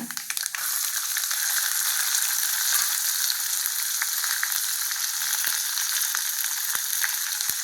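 Onions crackle and hiss as they fry in oil, a dense continuous sizzle beginning with a burst as they hit the pan, close and steady with faint scattered pops and no voices.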